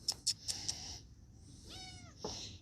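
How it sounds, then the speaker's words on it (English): A cat meows in a short rising-falling call, heard close and fairly faint, after a few brief sharp clicks. "Hi, kitty. Meow. Come here."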